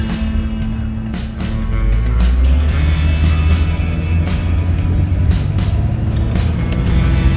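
A Jeep WJ cruises along highway 46, a steady low engine and road drone with tire and wind roar, broken by a few sharp ticks and rattles close by inside the cabin.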